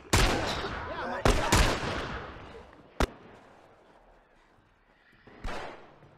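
Gunfire from The Last of Us on PS3, with loud sharp shots at the start, two more close together near one and a half seconds, a lone crack around three seconds and another burst near the end, trailing into quieter game ambience.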